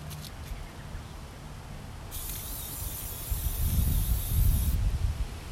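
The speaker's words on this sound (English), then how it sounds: "All right, so we're just gonna spray paint it." A steady hiss from a can of flat black spray paint runs for a few seconds outdoors, with gusty wind rumbling underneath.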